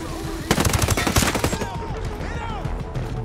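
Rapid Gatling gun fire in Ghost Recon Breakpoint, a dense loud burst of shots from about half a second to one and a half seconds, then trailing echoes and softer game sounds.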